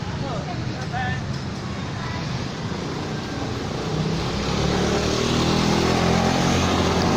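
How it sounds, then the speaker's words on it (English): Motorbikes and other traffic roll through a busy little market town street, with a steady roar of engines that grows louder and closer toward the end, and faint voices mixed in. "Motorbikes everywhere."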